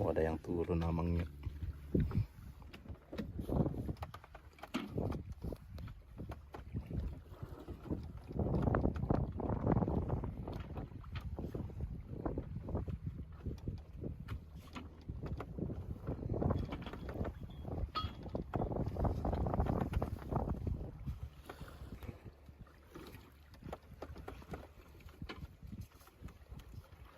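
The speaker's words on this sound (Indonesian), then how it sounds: "Kelotoknya sudah menuju ke sini nih." A kelotok river taxi motorboat on a river near Banjarmasin, its engine droning steadily with water and wind noise as it approaches, while people talk nearby throughout.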